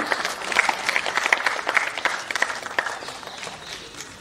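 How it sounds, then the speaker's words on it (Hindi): Audience applause welcomes a speaker at a university Independence Day celebration, a dense and steady patter of many hands clapping at moderate distance for several seconds, with scattered louder claps and no talking. "जोरदार तालियों से आपका स्वागत है"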